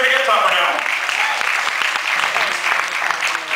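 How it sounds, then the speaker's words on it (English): Live audience applause at a family comedy and juggling show, a dense steady wash of clapping lasting throughout, loud and close. "Your instincts to clap are correct."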